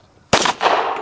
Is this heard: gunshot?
yes